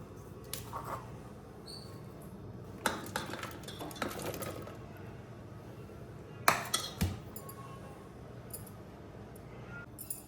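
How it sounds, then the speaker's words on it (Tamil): Vegetables tipped into a pot of cooking dal for tiffin sambar, giving a few scattered clinks and knocks of metal utensils against the pot over a low kitchen background, with two brief clusters of clatter standing out. "இப்போ பருப்பு கூட காய்கறியை போட்டுக்கலாம்."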